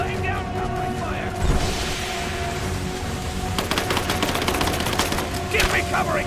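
Rise of the Tomb Raider combat: rapid automatic gunfire bursts in the second half, layered over game shouting and background battle noise, loud and close.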